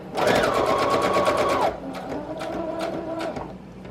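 A sewing machine running a regular single stitch at full speed, a rapid even mechanical chatter for about a second and a half, then a slower stitching run with a few pauses.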